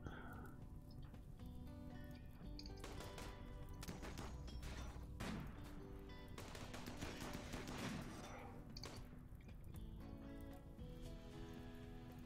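Rapid gunfire from colonists in the colony game RimWorld, a faint patter of small shots that thickens into clustered volleys midway, steady and quiet throughout with no voices.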